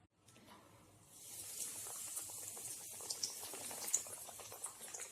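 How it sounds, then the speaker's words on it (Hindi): Chicken bites deep-fry in hot oil over a medium-low flame, a steady bubbling hiss that swells after a moment and carries on with small pops, close but fairly soft. "देखिए आप देख सकते हैं कितने अच्छे से फ्राई हो रहे हैं।"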